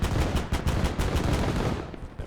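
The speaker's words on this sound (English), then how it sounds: "Another Panzer one. This is firing, I'm assuming." Dense, rapid gunfire rattles without a break in a Call to Arms: Gates of Hell battle where a Panzer tank is firing, loud and close throughout the scene.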